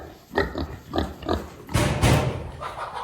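Farm pigs in a pen grunt and oink in a string of short, close, loud snorts, followed by a rougher burst of squealing grunts.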